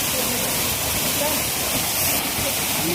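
Loud, continuous rushing of a waterfall at Raigad fort, a broad close roar of falling water with a voice speaking over it.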